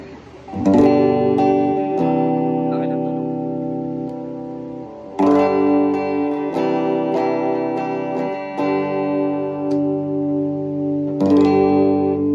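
A clean-toned LTD AX36 electric guitar by ESP, with strummed chords ringing out and sustaining, restruck several times in a slow rhythm, loud and close with no talking.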